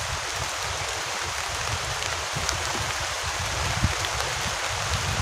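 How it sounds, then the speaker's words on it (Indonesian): Heavy rain hammers a tent at a campsite during a storm, a dense, loud, unbroken roar of drops with scattered sharper taps on the fabric. "Hujan deras banget nih."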